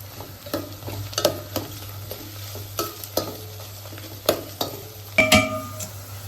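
Green chillies for chicken curry frying in a pan, a steady low sizzle punctuated by repeated sharp scrapes and clinks of a utensil stirring against the metal.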